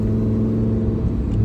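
A lovely car's engine holding a deep, steady rumble at fairly high revs, loud and close with a smooth mechanical whir and no voices over it.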